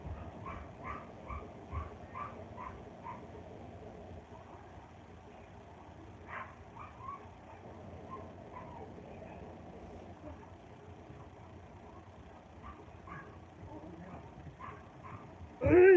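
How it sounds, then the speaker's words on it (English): A dog barks in short bursts spread across the clip, moderately distant, with a low steady background rumble and a sudden loud sound at the end. "Let's see what my dumb dog is barking at."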